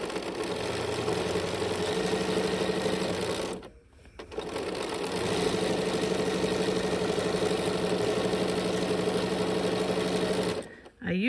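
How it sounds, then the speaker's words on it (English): A sewing machine stitches steadily through a fat-quarter quilt, running over magic pins without trouble. It gives a loud, continuous mechanical whirr that stops briefly twice and then starts again, and no one speaks over it. "I'm going to sew with the magic pins, and you will see that the machine has no problem going over them"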